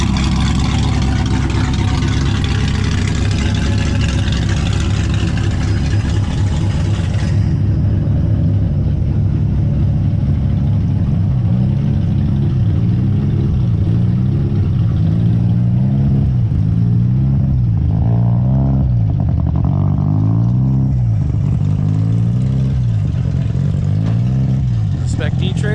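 A drift car warming up its differential and transmission at a raceway drift event, its engine droning loudly and steadily with wavering revs throughout, with a voice talking over it.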